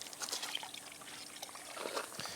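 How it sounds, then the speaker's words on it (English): A washing mitt dunked into a small reservoir of clean water, soft sloshing and trickling with scattered drips, close and fairly quiet. "I'm gonna take my little washing mitt here, just dunk it in the clean water"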